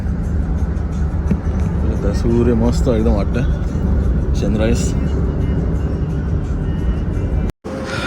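Car driving on a road during a road trip in Gujarat, heard from inside the cabin as a loud, steady low drone, with people talking over it and a brief dropout near the end.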